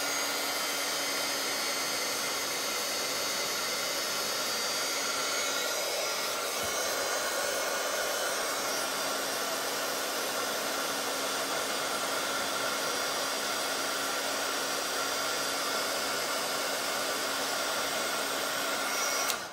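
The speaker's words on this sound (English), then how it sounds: "Bring over your heat tool." A heat tool blowing steadily to melt white embossing powder for stamping, a continuous loud whooshing fan roar that holds unbroken for about twenty seconds with no voices.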